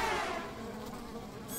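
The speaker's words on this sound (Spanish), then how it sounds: "¿Por qué las moscas aman la basura?" Flies buzz around a garbage truck, a soft continuous insect drone close by with no voices.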